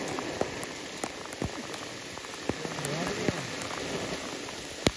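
Heavy monsoon rain falling on a trek up Korigad Fort, a steady dense patter of raindrops with sharper close drips hitting a surface and a faint voice briefly under it.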